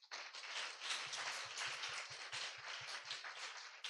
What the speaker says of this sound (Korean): 잠깐 자리에서 일어나시면 박수로 환영하도록 하겠습니다